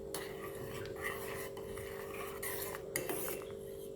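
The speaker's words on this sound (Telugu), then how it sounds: "ఇలా కలుపుతూ ఉండాలి." An immunity-booster drink is stirred in a pot, a soft, continuous scraping and swirling of a utensil against metal over a low steady hum, with a few light clinks.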